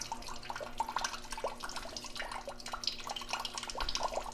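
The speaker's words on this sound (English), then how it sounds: "you can see it's just dribbling out" Water trickles and drips in a thin, uneven dribble from a GE Profile refrigerator's water dispenser after a filter change, close by, with a steady low hum underneath.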